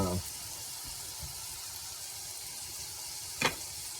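Lion's mane mushroom frying in an iron skillet gives a steady, soft sizzle that holds throughout, with a brief louder clatter near the end.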